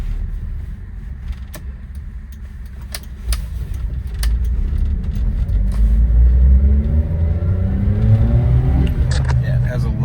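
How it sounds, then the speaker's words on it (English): A 1998 Suzuki Jimny with the K6A turbo engine and manual gearbox pulls away on a test drive, its low engine rumble swelling and climbing through the revs, with a few light clicks and rattles inside the cabin. "Okay, we're gonna take this thing on a test drive."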